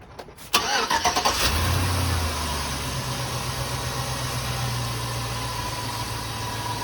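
A 2006 Chevrolet Suburban cranks briefly and catches after an oil change, then settles into a steady, close, loud idle with a low rhythmic engine throb.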